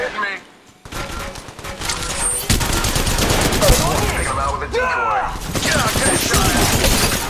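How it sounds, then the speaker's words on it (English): Apex Legends Mobile gameplay with dense, continuous rapid gunfire and bursts of automatic weapons, loud and close, alongside in-game character voices. "They're shooting at me! Reloading! Shots fired!"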